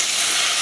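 Tomato sauce frying with rice in a pan, a dense, steady hiss and sizzle close up and continuous, with no voices.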